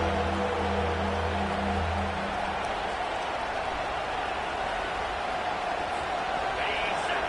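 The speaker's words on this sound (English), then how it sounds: "Decibels rising as the crowd gets behind this defense on 3rd down." A football stadium crowd roars on a third down, a dense, continuous wall of noise holding at a steady loud level throughout, with low tones fading out early.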